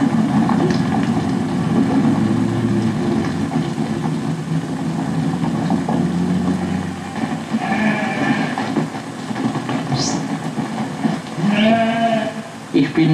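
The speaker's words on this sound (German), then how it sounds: "bin ich mit den Schafen unterwegs." A flock of sheep on the move with a shepherd across Rhine meadows bleat repeatedly, several overlapping calls near and farther off over a steady rumbling background.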